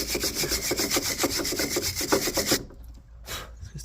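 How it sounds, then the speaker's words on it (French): Wire brush scrubbing a rusty front brake hub on a Renault Clio 2, a fast rhythmic rasping of quick back-and-forth strokes, close and loud, then stopping abruptly with one brief stroke after. "Un petit coup de brosse métallique là-dedans quand même."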